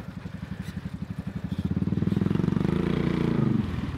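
Motorcycle ridden during a riding lesson, its engine pulsing in a steady low rhythm that builds and holds loud and close as the bike accelerates, with no talk over it.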